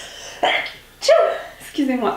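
A single sneeze bursts out at close range, followed by a short apology from a woman in a quiet indoor room during a skincare routine, with another brief breathy vocal sound after.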